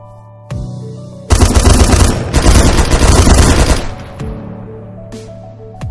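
Rapid automatic gunfire from a Minecraft DayZ warzone PvP game erupts in a dense, loud burst lasting a few seconds, then cuts back to quieter background game sounds.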